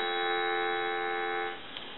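A steady, continuous dial tone from a 223G three-slot payphone hums with a clean, even pitch for about a second and a half, then cuts off, leaving faint background noise.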